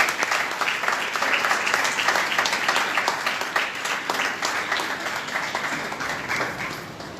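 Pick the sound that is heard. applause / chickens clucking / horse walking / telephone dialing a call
applause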